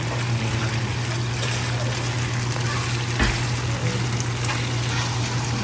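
Bagoong shrimp paste fries in oil in a pan, a soft, steady crackle and sizzle that runs unbroken under a low hum and a person speaking nearby.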